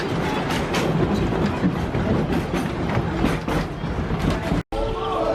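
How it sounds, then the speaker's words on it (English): A passenger train ride at Disney's Animal Kingdom rumbles and clatters steadily, with rolling wheel noise and rhythmic clicks, a brief cutout near the end, and faint people talking mixed into the din. "Now that is one fun train ride."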